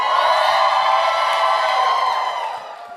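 Comedy club audience erupting in loud cheering and whooping, a dense sustained roar of many voices that fades slightly toward the end.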